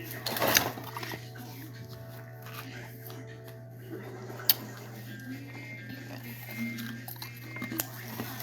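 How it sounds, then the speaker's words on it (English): A wireless electric tattoo machine with a needle runs on fake practice skin, giving a steady, quiet, low mechanical buzz that holds throughout, with a few faint clicks and handling noises over it. "my electric tattoo gun, my electric wireless tattoo gun."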